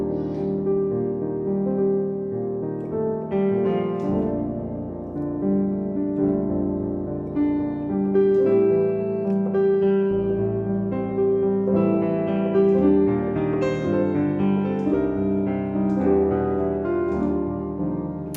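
A chord progression is played on keys with open voicings, warm sustained chords moving steadily over about eighteen seconds, close and clear with no talking.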